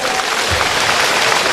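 An audience at an official installation ceremony claps loudly, a dense continuous burst of applause with crowd noise throughout.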